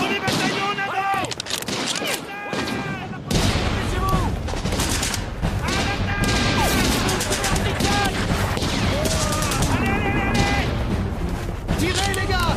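Dense battlefield gunfire in an action war film, rapid rifle and machine-gun bursts with explosions, loud and continuous after a brief quieter opening, with shouting voices mixed in.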